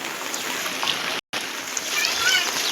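Rainwater floods a village street during rain, a steady broadband rush of flowing and splashing water close by, with one brief cut partway through.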